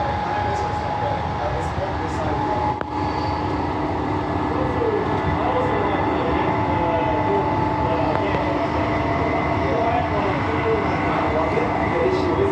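Steady rumble and hiss inside a moving A-series passenger train on Perth's Armadale Line, riding on rails, continuous and even throughout, with faint high whines.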